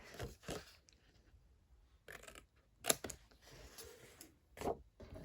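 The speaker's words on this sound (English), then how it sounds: "Try and cut it as straight as you can." Scissors cut through paper in a few separate short snips, crisp and close but quiet, with gaps of near silence between them and no voices.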